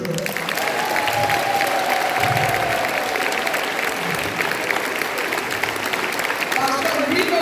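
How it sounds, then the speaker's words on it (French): An audience applauds throughout a church teaching session, steady clapping that carries on under overlapping voices. "Applaudissons-le."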